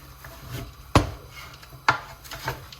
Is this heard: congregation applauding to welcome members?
no